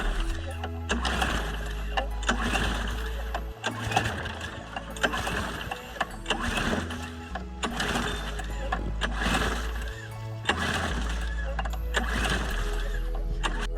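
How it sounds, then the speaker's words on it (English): Repeated pull-start attempts on a free lawn mower just fitted with a new carburetor gasket and air filter, each rapid churning burst dying away without the engine catching, in a steady cycle of about six tries. "we are now going to try and start the mower"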